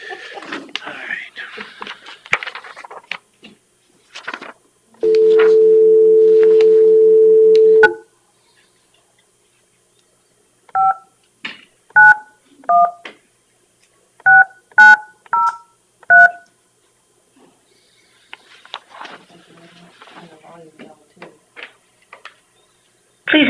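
Telephone keypad tones sound for a conference call dial-in, starting with a long steady tone and then a rapid series of short distinct beeps, with quiet talk and rustling at the start and end.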